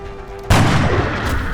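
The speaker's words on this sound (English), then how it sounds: "Let's try hitting with the sniper." A single sharp sniper rifle shot from the video game X-COM: Enemy Within bursts out after a brief quiet moment, then rolls into a heavy booming decay.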